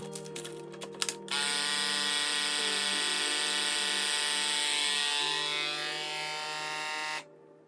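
A vacuum sealer machine runs steadily, pulling the air from a bag of marinated coppa cured with Pinot Noir. Its loud, even motor hum lasts about six seconds after a few faint clicks, then shifts slightly and stops abruptly.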